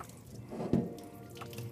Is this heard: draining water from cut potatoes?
yes